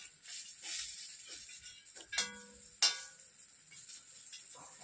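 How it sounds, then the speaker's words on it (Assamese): Small fish fry in a pan for a red radish curry, with a soft steady sizzle and a couple of sharper clatters partway through, heard fairly close without any talk. "মাছখিনি ভাজি হৈ আছে।"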